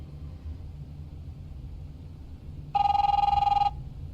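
A telephone ringing in The Wolf Among Us video game, one loud electronic trill lasting about a second over a steady low rumble, close and alone without any voices.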